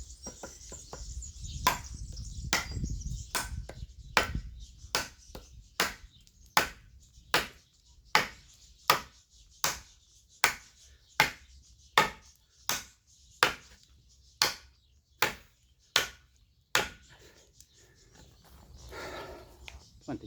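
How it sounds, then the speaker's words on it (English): Knife chopping test with a Charon and a TOPS T3 Tracker: about twenty sharp, evenly spaced chops strike one after another at a steady rhythm, close and crisp, with a low rumble and faint talk near the start. "So let's go to the other test, which is 20 chops here."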